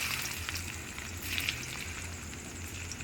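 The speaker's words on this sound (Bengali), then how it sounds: "দিয়ে ভালো করে নেড়ে নেব, ভালো করে ভেজে নেব।" Dried red chillies and chopped ginger frying in oil for chilli chicken, producing a soft, continuous hiss and crackle at moderate loudness with faint stirring.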